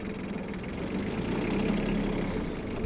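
A Yanmar KE-50 mini tractor rolls along in third gear, its compact engine giving a steady, near, mid-low drone with a faint knocking edge, unchanging throughout and free of speech.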